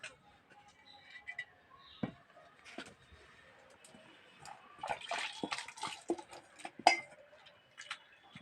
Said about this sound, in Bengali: জলে ভালো করে ধুয়ে নিচ্ছি